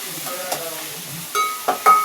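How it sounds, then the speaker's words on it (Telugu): Onions sizzle in a pan, frying toward brown, while a utensil stirs and scrapes, with a couple of sharp clinks near the end. "ఉల్లిపాయలు బ్రౌన్గా వచ్చేదాకా వేయించుకోవాలండి"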